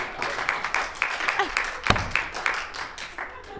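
Audience applause at a live comedy show, a crowd clapping in a steady patter of overlapping claps at moderate level, with a voice breaking in briefly.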